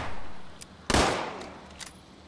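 Gunfire in the video game Fallout 76: one loud, close shot rings out and decays, with a few fainter, sharp cracks before and after it.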